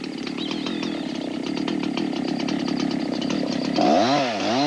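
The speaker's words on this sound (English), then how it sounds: "The chainsaw has been busy for more than a decade." A chainsaw cuts tropical hardwood in Papua New Guinea, holding a loud, steady whine before revving up and down in sweeping pitch near the end; no one speaks.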